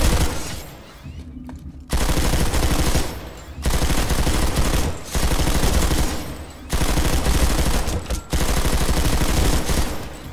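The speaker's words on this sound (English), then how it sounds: "That was some bad shooting there" Light machine gun with a 100-round magazine firing at targets in a video game: long sustained bursts of rapid, loud automatic fire, broken by brief pauses between strings of shots.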